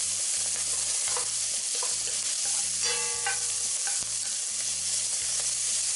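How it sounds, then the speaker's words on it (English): Ginger, garlic and habanero pepper frying in a pan, a dense, even close sizzle with small crackles and a few stirring clicks, accompanied by soft rhythmic background music. "I'm going to now put in the ginger, the garlic, and the habanero pepper"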